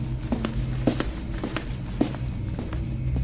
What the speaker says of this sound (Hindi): उसके कदमों की आहट जरूर सुन पाते थे